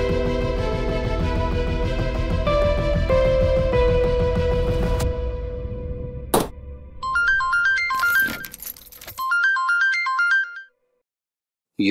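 A phone ringtone plays a repeating electronic melody in loud bursts over background music, then cuts off into silence.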